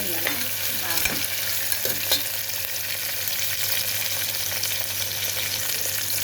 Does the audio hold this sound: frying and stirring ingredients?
yes